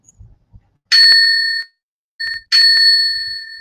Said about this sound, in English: The timekeeper will ring the bell twice.